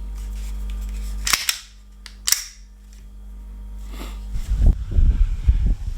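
A Glock 17 Gen 4 gas BB pistol fires two sharp, loud cracks about a second apart outdoors, followed by a gusty rush of wind.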